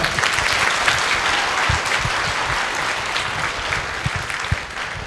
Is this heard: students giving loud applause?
yes